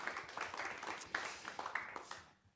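Applause from a studio audience for two guests, a sociologist and a professor, at a Dutch talk show at Tilburg University: a steady, fairly faint patter of many hands that fades out at the end.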